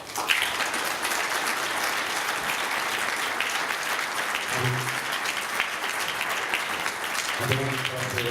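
An audience applauds panel members at a river conservation gathering, sustained dense clapping filling the room at a steady level throughout, with brief bits of voice near the end.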